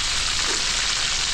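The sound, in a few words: frying cordon bleu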